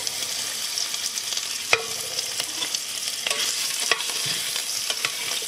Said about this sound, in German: Das werden wir einfach kurz rundum anbraten.